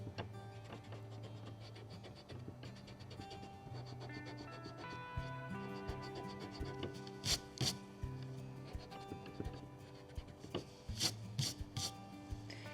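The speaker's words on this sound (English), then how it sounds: "Next what we're going to do is we're going to erase this circle because we don't need it anymore." An eraser scrubs away a pencil-drawn circle on paper, giving a close, soft papery rubbing with irregular strokes and a few sharper scratchy accents, quiet and steady with no voices.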